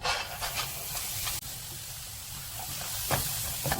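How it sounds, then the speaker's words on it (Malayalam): Urad dal roasts over a high flame in a pan, giving a steady, moderately loud hiss and sizzle as moisture steams off, with a few light stirring scrapes and no talk. "നമുക്കിനി ഉഴുന്നൊന്ന് വറുത്തെടുക്കാം"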